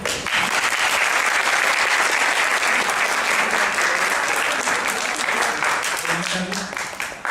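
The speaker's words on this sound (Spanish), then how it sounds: "Un aplauso, por favor." Sustained applause from an audience at an academic lecture fills the room, steady and loud for several seconds before thinning slightly near the end.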